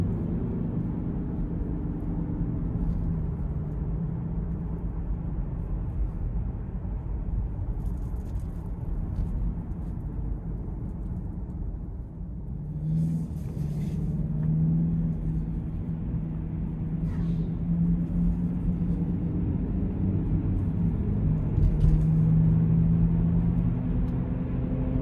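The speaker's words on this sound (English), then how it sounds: "We're gonna get ready to give it a pull on the interstate." A 2026 Lincoln Corsair Reserve II with a 2.0T engine and AWD pulls hard on the interstate, a steady droning engine and road rumble that rises in pitch and builds toward the end, heard from inside the cabin.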